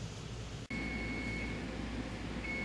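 A kitchen timer for water-bath canning blackberry jam gives a thin, steady high beep that keeps sounding, faint over a low hum of background noise.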